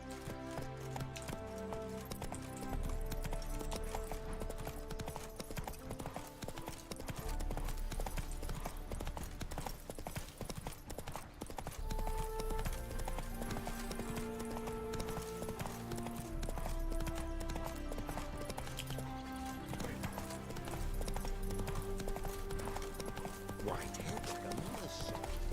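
In The Witcher 3, the horse Roach gallops with a steady, rhythmic clip-clop of hooves under game music, and a voice speaks at times over the hoofbeats.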